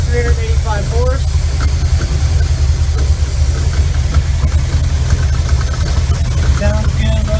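A 2000 Mach One 314 combo boat idles on a 454 Mach MPI engine rated at 385 horsepower, a loud, steady low rumble that stays constant throughout, with brief voices faintly in the background.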